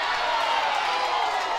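A baseball crowd at an Auburn vs. Oklahoma college game murmurs and stirs in a steady, broad wash of voices right after a high, tight pitch, held at an even level throughout.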